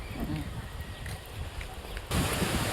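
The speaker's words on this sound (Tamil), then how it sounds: "ரொம்ப பயங்கரமாக அடிக்குது காற்று, சுத்தமாக நிற்க கூட முடியல என்னால்" Strong, gusty wind blows on an outdoor golden-hour nature walk, a steady broadband roar that surges louder near the end, with no clear talk.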